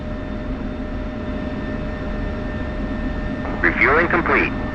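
A simulated F-16 taxis in DCS World with a steady, even jet-engine whine, and a voice briefly cuts in over it near the end.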